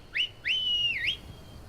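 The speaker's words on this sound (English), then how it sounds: "you'll eventually come to having this in your magic inventory, the horse whistle" A horse whistle used in Skyrim gives a clear, close two-part whistle, a short chirp followed by a longer rising and sustained note that dips and lifts at the end, alone against faint background.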